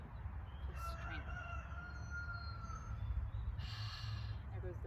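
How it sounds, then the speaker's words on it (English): A rooster crowing during an outdoor yoga session, a drawn-out call that is faint and distant under a steady low background rumble, with a brief breathy sound near the end. "There goes the rooster."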